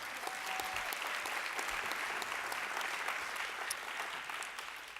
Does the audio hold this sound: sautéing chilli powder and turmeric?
no